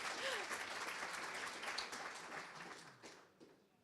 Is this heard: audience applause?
yes